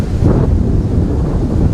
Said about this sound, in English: The gust of wind blows behind the home plate area.